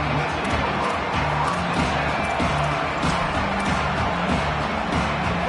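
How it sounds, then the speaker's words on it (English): Stadium crowd noise in a college football video game, a dense continuous roar of cheering fans with scattered thuds and shouts, loud and steady throughout. "This crowd ready to make its presence known."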